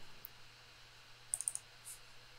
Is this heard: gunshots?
no